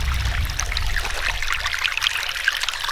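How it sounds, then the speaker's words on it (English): Cold spring water trickles steadily from a small pipe outdoors at Dinosaur National Monument, a continuous close splashing dribble with a low rumble beneath and no talking. "there's a little spring. Little pipe spring coming out."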